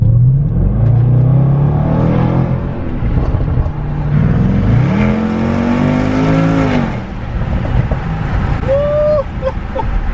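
Loud SVR car engine revving hard while driving in traffic, a deep rising and falling roar with repeated throttle surges, close and sustained throughout.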